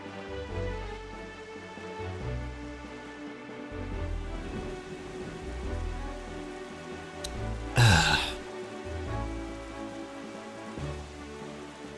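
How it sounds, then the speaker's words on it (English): Steady rain patters in Zelda: The Wind Waker, a continuous soft hiss with low rumbling game music underneath and one brief burst of noise midway. "And it's raining again."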